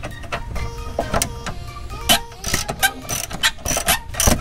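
Ratcheting wrench or impact driver loosening penetrant-soaked bolts during removal of a Subaru Forester steering rack, a dense run of close mechanical clicks and whirs with quick sharp bursts and a faint voice underneath.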